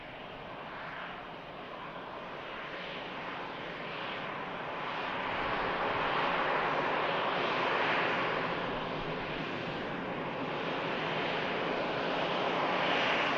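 A Boeing Dreamliner on approach to Manchester Airport gives a distant, steady jet rumble that swells gently in the middle and stays at moderate level.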